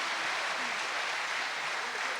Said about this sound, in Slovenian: dajte jim aplavz, zaslužijo si